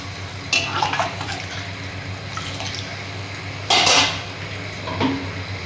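A lid goes onto a cooking pan holding a fish and aubergine curry with spiced water, giving sharp metallic clinks and clatters over a low simmer, with one louder clank partway through.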